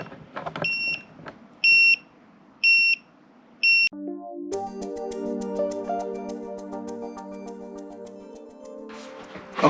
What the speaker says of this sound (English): I immediately got an alert.